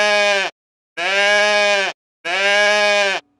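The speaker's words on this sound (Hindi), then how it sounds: "इसके साउंड को इंग्लिश में ब्लीट कहते हैं और हिंदी में मिमियाना।" A goat bleats three times in a row, each call loud, close and drawn out with a wavering, nasal tone, separated by short silences.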